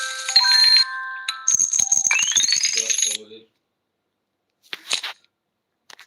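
Coins are collected in the video game Avatar World, making bright, rapid chiming jingles in a few quick bursts, followed by short pauses and a couple of faint later tinkles.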